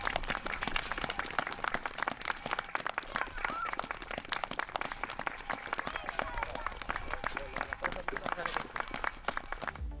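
Applause for a municipal council at a local gathering, a steady stream of many hands clapping with distinct crisp claps throughout, with voices talking and cheering underneath.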